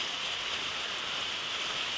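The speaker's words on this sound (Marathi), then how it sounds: "पाऊस हा चालूच आहे" Steady rain falls outside a house on an evening, a continuous even hiss that holds at the same level throughout with no voices.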